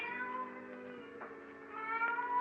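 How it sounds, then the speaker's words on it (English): Faint, drawn-out crying of a cat as a radio drama sound effect, a wavering tonal wail that rises in brief swells, heard alone against a quiet background. "Suddenly, the silence was broken by the faint crying of a cat."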